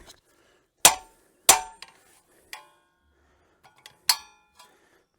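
Sharp metallic clangs ring out, a handful of separate hammer blows on scrap metal while building a 250 mm garden auger, spaced irregularly, close and fairly loud, with quiet pauses between.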